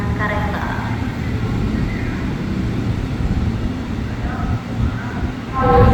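Steady low rumble of the Serayu train idling at platform 3 of Bekasi station, bound for Purwokerto, with faint station chimes or announcement tones drifting in and a louder surge near the end.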